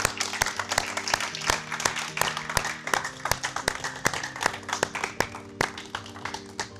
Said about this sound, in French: je veux juste qu'on prenne un instant pour applaudir l'équipe d'entraîneurs